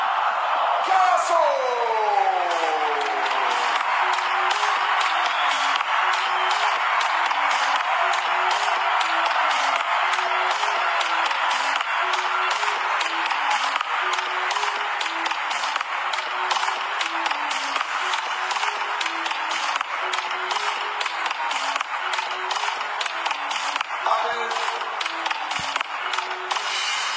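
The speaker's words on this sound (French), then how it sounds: "Applaudissements pour Johan" Stadium crowd applauds and cheers for player Johan Carasso at the Stade de Reims trophy ceremony, a dense continuous roar of clapping and shouts with tonal announcements over it and no spoken words.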